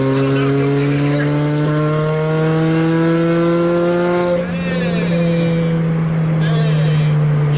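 A loud, sustained 2008 Lotus Exige S engine drones and climbs in pitch, revving hard with a strong harmonic whine that shifts and dips near the middle before continuing.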